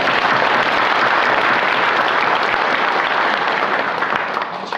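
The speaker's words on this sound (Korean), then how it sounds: "우리 하나님께 영광의 박수 드립니다." Sustained applause from a church congregation during a Christmas Eve service, a dense steady wash of clapping that continues evenly throughout and eases slightly at the end, with no voices over it.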